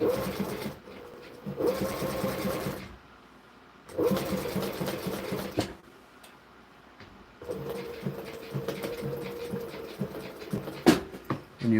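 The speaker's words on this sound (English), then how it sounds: "When you back up the stitching, it doubles up the thread and keeps it from fraying on you." A sewing machine runs in several bursts of rapid mechanical stitching, reversing to back-stitch the seam, with short quiet pauses between runs, close by.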